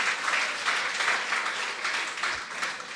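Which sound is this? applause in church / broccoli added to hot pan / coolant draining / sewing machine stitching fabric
applause in church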